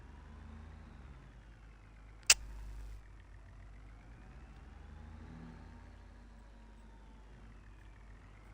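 A small tractor engine idles and runs steadily at close range about to pick up bales, with a single sharp metallic clank partway through and no voices.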